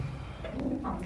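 A red-headed male low flyer pigeon gives a soft, brief coo close by, a low murmuring call in the second half against quiet background hiss.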